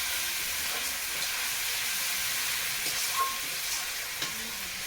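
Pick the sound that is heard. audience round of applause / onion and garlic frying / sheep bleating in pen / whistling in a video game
onion and garlic frying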